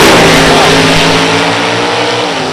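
Drag race car, a Chevy Beretta with a 345 cubic inch engine, revs hard at a drag strip, a loud sustained roar that eases slightly toward the end, with no voices.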